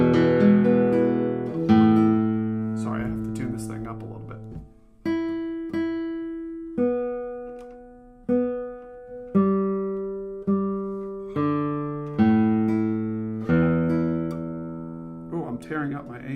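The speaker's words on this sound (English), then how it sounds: "you got to hear how this guitar sounds" Plucked guitar chords ring out one after another at a relaxed pace, each strum decaying before the next, played alone and close up.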